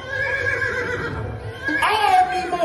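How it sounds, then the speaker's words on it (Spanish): A horse whinnies loudly, a high wavering neigh rising near the end, with a voice talking underneath throughout. "mi amado y querido caballo"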